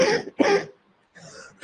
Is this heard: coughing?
yes